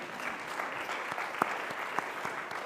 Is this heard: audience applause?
yes